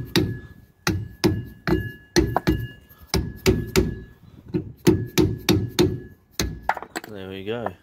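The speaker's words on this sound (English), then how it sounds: "just tap it, sort of hitting outwards and slowly working it off" Repeated sharp, hollow metallic knocks from a soft-faced hammer tapping a Dunbier boat trailer wheel hub, struck steadily in quick pairs and singles at close range, with a short voice at the very end.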